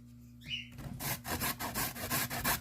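A carrot is rubbed against a hand grater in quick, even back-and-forth strokes, each pass giving a rasping scrape close by, repeated steadily for a couple of seconds.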